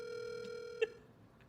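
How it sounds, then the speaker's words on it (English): A telephone tone sounding steadily and faintly, with a single soft click midway, alone without any talk. "Answer the phone."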